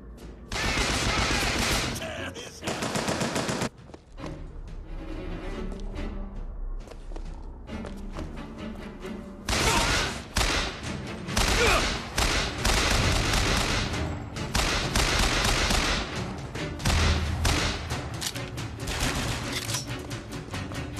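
Bursts of gunfire from the video game Bioshock Infinite, loud and sustained rapid volleys with heavy booms, broken by a few short lulls and dense with layered shots throughout.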